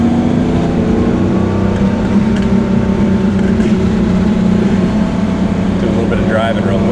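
A 1985 Porsche with the air-cooled 3.2 engine drones steadily while driving, a continuous low, loud hum heard from inside the car beneath a talking voice.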